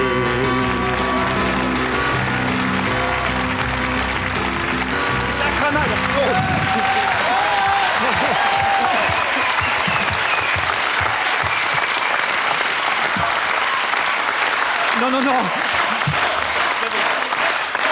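A television studio audience at a comedy show applauds loudly and continuously, a dense wash of clapping that fills the whole stretch, with a voice briefly heard early on.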